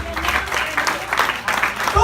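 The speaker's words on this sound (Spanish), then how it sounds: "Denle un aplauso al Señor por eso." A church congregation claps in praise during a sermon, a brief burst of crowd applause mixed with voices and some low rumble.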